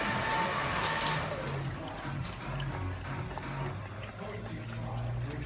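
Warm water runs steadily from a sink tap, a continuous rushing hiss at moderate level with faint low background hum throughout.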